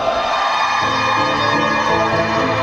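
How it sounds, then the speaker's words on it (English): University of Worcester students cheer in a sports arena at a Varsity event, a loud, continuous crowd roar of whoops and shouts filling the short stretch. "Oh, louder cheering there, Owen."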